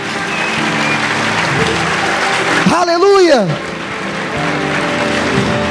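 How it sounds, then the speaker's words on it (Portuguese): A church congregation applauding loudly, sustained dense clapping that fills the room, with a voice calling out over it midway. "Vamos aplaudir bem forte ao Senhor."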